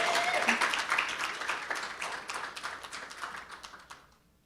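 An audience at a reception applauds with brisk, dense clapping that stays loud at first, thins gradually, and stops abruptly near the end.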